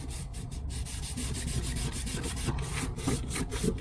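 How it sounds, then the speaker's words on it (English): A cloth rubs back and forth across the painted surface of a C10 pickup, a steady scrubbing swish, close and continuous, with rhythmic strokes. "you just wipe wherever you're gonna stick it"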